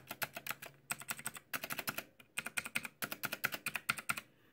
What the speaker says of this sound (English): The click noise is a little bit dampened.